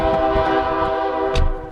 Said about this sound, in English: back in the truck we go with the train horn blaring